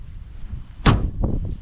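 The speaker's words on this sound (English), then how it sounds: "Door's shut nice." The door of a 1970 Oldsmobile Cutlass W-31 shuts with a single solid, close slam, followed by a faint rattle as it settles, over a low background rumble.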